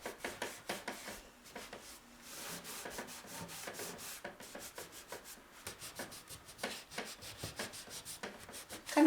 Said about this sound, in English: I'm kind of rubbing the gilding color into the texture of the metal.